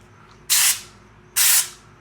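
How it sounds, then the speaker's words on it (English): Two short, loud bursts of spray as grout texture is sprayed onto newspaper during bathroom shower tiling, each a sharp hiss of about a quarter second, separated by a brief pause, with no talking. "I guess we'll spray it on the newspaper here first."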